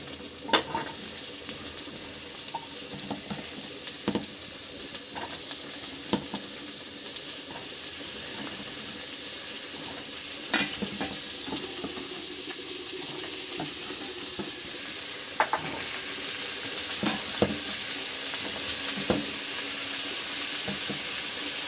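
Vegetables fry in a pan for Bengali-style chicken stew, giving a long, steady sizzling hiss broken by scattered clicks and pops, with no voices heard.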